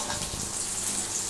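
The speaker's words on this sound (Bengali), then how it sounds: "এটাকে একটু ভালো করে ভেজে নাও, তাহলে খেতে ভালো লাগে।" Chitol fish muitha dumplings sizzle and crackle as they fry in oil in a pan, a brief, continuous close-up hiss.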